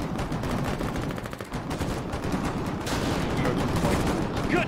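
Heavy, continuous gunfire from the war game Foxhole, with dense overlapping rifle and machine-gun bursts crackling loudly throughout, no speech over it.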